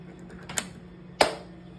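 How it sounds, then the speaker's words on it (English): A door lock is turned, giving a faint click and then a sharp, louder mechanical clack less than a second later, heard close by in a quiet room. "you then lock the door."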